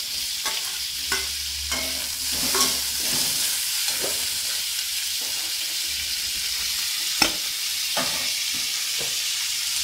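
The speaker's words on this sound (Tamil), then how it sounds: "பெரிய வெங்காயம், பூண்டு, தக்காளி பழத்தையும் சேர்த்து வதக்கணும்." Onion, garlic and tomato sizzling and frying in a pan, a continuous hiss broken by repeated scraping strokes of a spoon stirring.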